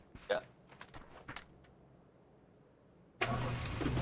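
A vehicle engine starting in the battle royale game PUBG: a few quiet clicks and rattles, then a short pause and a sudden loud engine catch that settles into a steady running roar.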